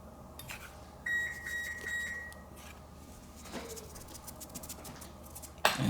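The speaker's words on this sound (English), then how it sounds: "You hear the oven just preheated" A kitchen oven chimes after finishing preheating, a clear electronic beep lasting about a second amid quiet clatter and faint background noise, with a sharp knock at the end.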